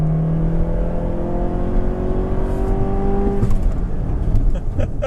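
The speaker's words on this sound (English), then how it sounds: "I'm going to give it a little bit of torque and just let it go." A 2015 Mazda6 accelerating hard on a racetrack with a bit of wheel spin, its engine note climbing steadily through the gears, loud and close throughout, ending with a brief shift and rougher rumble.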